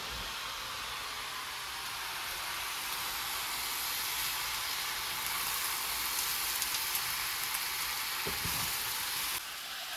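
Cowboy hash of sausage and onions heating in an overfull pan, a steady hissing sizzle that holds for the whole stretch, with a faint stirring clunk near the end.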